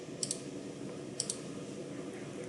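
A computer mouse clicked twice in quick double-click pairs, crisp and close, against a steady low room hum with no speech.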